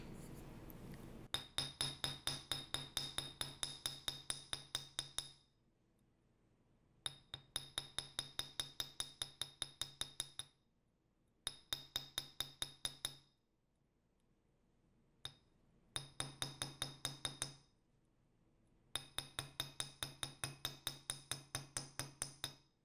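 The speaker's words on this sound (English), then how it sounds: "And now we want to hammer these as well." Metal hammer strikes ring out on wire chain loops on a hard surface, in five rapid bursts of sharp, bright, evenly spaced taps separated by short pauses, close and clear with no speech.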